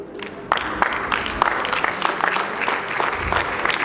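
An audience at a college cultural event bursts into applause for students, a dense, sustained patter of many hands clapping that starts suddenly and holds steady with no talk over it.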